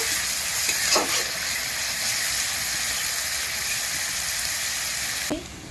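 Chopped onions are dropped into hot oil for a potato curry and sizzle with a steady, bright hiss, with a few soft clatters near the start; the frying drops off abruptly at the end.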